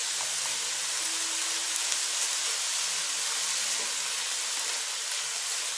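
Coarsely chopped onion sizzles in a hot kazan with a loud, steady, unbroken hiss and frying crackle throughout.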